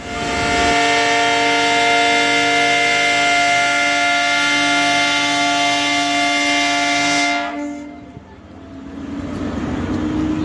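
A train horn sounds at a station on the Nanded to Kinwat line, a loud sustained multi-tone blast held for about seven seconds before cutting off, followed by rising rumble of rolling rail cars.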